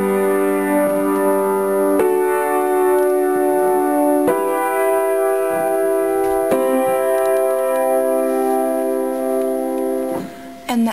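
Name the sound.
piano playing the chorus chord progression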